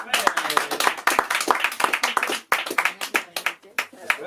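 Live audience clapping for Nathalie during a comedy stage show, dense, close, rhythmic hand claps with a brief dip midway before resuming strongly.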